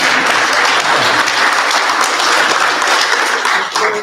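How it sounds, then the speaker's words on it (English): Wedding guests in a church applaud the ring boy with a loud, dense burst of clapping that holds steady for about four seconds before easing slightly at the end. "Let's give a round of applause for our ring boy here."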